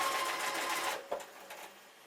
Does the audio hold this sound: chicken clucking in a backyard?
no